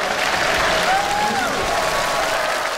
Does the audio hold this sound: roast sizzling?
no